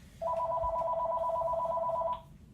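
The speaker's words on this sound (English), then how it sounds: "That's the phone." A single steady electronic telephone ring with a two-tone trill lasts about two seconds, loud and close, then stops abruptly with no talk over it.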